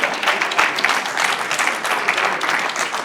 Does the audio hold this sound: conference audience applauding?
yes